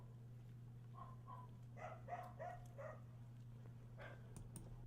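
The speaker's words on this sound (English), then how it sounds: "There's a dog barking, but that's it." A dog barks in short bursts at some distance, faint against a low steady hum, with a few yips toward the end.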